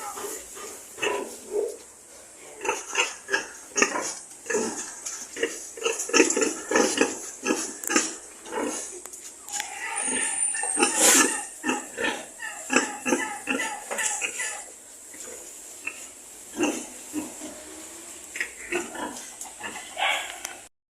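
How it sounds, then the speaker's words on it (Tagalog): A sow with a newborn litter of fifteen piglets, heard as rapid, repeated high squeals and short grunts in irregular bursts. The sounds are fairly close but not loud. "meron naman tayong bagong panganak na baboy at maganda yung naging anak niya"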